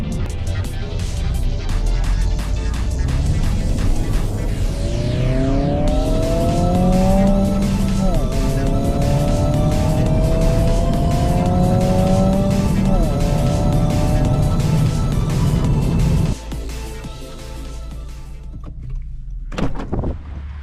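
A 2024 Honda Civic Si driving on a backroad, engine revving up and down through rising gear pulls under steady road and wind noise, close and loud throughout.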